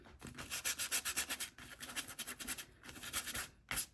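An old brush cut with notches scrapes Sumi ink across a gel printing plate in a mixed-media art session, giving close, rhythmic rubbing strokes that repeat steadily for a few seconds with a brief pause, no voices.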